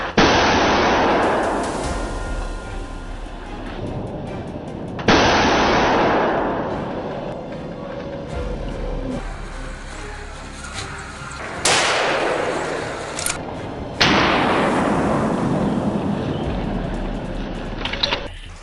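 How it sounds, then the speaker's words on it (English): Gunfire during a wild boar hunt in a forest: four loud, sharp gunshots spaced a few seconds apart, each followed by a long rolling echo that fades out slowly. "a gunshot rang out, taking down the boar and gunfire erupted from all directions"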